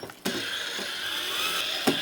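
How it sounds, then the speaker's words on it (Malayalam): Small screws being tightened while a table is assembled give a run of close mechanical ratcheting and creaking, with sharp clicks at the start and end of the turning and no talk. "ഇനി നമ്മുടെ ചെറിയ സ്ക്രൂ 1, 2, 3, 4 ഈ 4 അടിച്ചു കഴിഞ്ഞാൽ ഇവിടെ സെറ്റാണ്"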